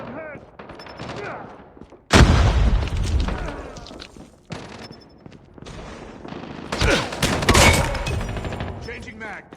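Call of Duty team deathmatch gunfire with a loud grenade blast, sharp repeated shots and booming bursts up close, mixed with shouted in-game voice callouts.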